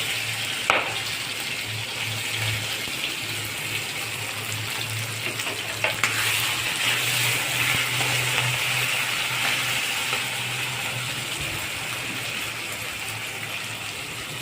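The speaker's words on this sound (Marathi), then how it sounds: "तेलात परतल्यामुळं आता आपण टमाटा घालत आहोत." Tomatoes go into hot oil for a dal tadka, giving a steady, moderately loud frying sizzle and hiss throughout, with a few faint clatters.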